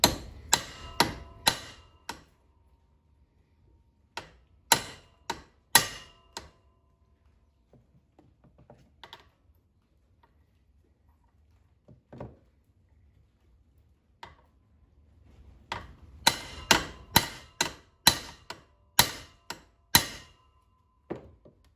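A hammer taps a socket to seat a U-joint cap on a 1977 Chevy Camaro, sharp metallic strikes in quick bursts of several blows separated by pauses, close and fairly loud.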